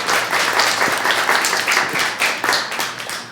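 A show audience claps for a participant named April, a short burst of lively, fairly close applause with individual claps standing out.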